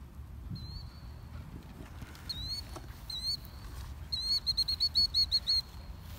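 A bird calls outdoors near a backyard fire: thin, high chirps come first as a few separate calls, then as a quick run of repeated notes, fairly clear over a low rumbling background.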